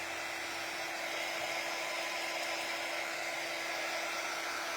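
A hair dryer runs steadily and close at high speed, drying a freshly painted coat, a constant whooshing whine with a faint tonal hum that holds without a break from start to finish.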